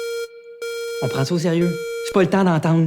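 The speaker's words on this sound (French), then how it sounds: "C'est une alarme d'incendie." A school fire alarm gives off a steady, ringing electronic tone that drones on nearly without a break while people talk over it in French.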